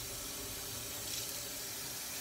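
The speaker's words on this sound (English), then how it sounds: "I live in North Florida, so the well water is pretty healthy here." Plain room-temperature well water running steadily from a tap in North Florida, a continuous broadband hiss with no pauses, close and fairly loud.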